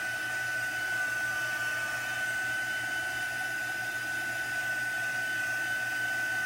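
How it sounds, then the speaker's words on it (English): A heat gun drying chalk paste on a craft surface, giving a steady, loud blowing whoosh with a constant whine running unbroken through the whole stretch, and no talking. "Gonna use my heat gun to dry it a little bit before I do the other one"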